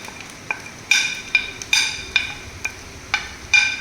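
A fish mixture sautés in oil while a spoon stirs it, giving sharp metallic clinks and scrapes against the pan at an uneven pace, about seven or eight strokes over a low background hiss.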